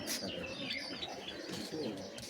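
Pet pigeons, a mated pair, coo softly at close range amid light chirps and rustling, the calls faint and low in level.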